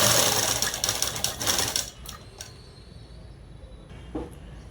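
A sewing machine stitches along a pair of cut-work pants, running in a loud rapid whir for about two seconds before stopping, followed by quiet room noise and a faint click.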